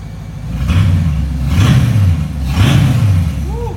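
An older family car with underdrive pulleys and the exhaust disconnected revs up in close, repeated surges, its deep raw engine note rising and falling over a rumbling idle, with no voices.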